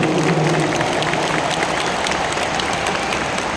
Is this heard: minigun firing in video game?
no